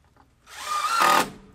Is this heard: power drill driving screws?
yes